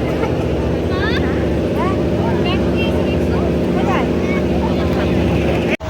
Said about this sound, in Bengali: আমরা সবাই নৌকাতে করে গঙ্গা পার হচ্ছি